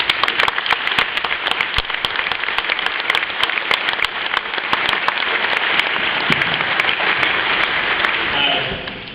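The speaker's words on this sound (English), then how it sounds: "Can we give them a round of applause" Sustained applause from a junior high honors band concert audience fills the hall, dense and steady for about nine seconds before tapering off at the end.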